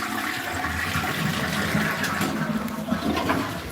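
A toilet flushes up close, a loud continuous rush and gurgle of water that swirls steadily for several seconds with no one talking.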